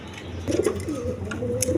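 A brief burst of low, rolling Kaldom pigeon cooing nearby, a couple of throaty phrases in quick succession.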